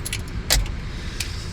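Keys jingle in a couple of short, bright bursts close by, the loudest shake landing early and a smaller rattle following, over a low steady rumble of background noise.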